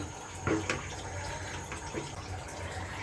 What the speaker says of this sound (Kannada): ಅದರಿಂದ ಸ್ವಲ್ಪ ಅರ್ಧ ಕಪ್ಪಷ್ಟು ನೀರನ್ನ ಸೇರಿಸ್ಕೊತಾ ಇದ್ದೀನಿ